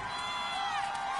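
A steady, loud stadium crowd roar with cheering from a PS4 American football game featuring the Bucs fills a short burst, with no distinct talk.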